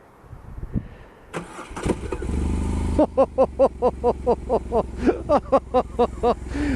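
A 2021 BMW R18 First Edition boxer motorcycle cranks briefly and fires up, then settles into a loud, close, lumpy idle with rhythmic throttle blips.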